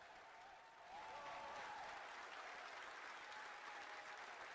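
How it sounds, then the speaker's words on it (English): A crowd claps and cheers steadily at an Electron rocket launch, with dense applause swelling after a quieter start and holding at a moderate, slightly distant level. "People were cheering,"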